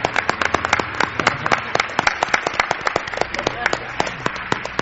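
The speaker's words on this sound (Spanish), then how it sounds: "Un aplauso para una de las almas de Milenio 3." Studio audience on a Spanish radio-television program clapping in a sparse, uneven run of sharp individual claps, close and fairly loud, with a low background hum.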